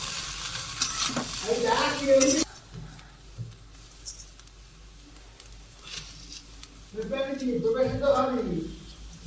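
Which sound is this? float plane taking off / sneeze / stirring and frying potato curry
stirring and frying potato curry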